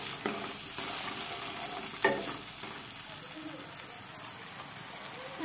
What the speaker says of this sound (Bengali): এবারে মশলাটা ভালো করে একটু নেড়ে চেড়ে মাছগুলো দিয়ে দেবো।